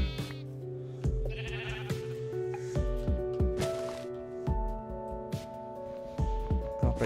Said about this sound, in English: I hate those sheep so much.